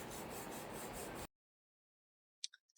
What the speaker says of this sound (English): Trimming some of the skin off the pork belly.